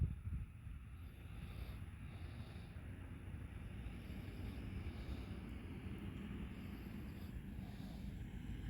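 A light breeze of about five to six miles an hour buffets the microphone, giving a continuous low rumbling wind noise with slight gusts throughout.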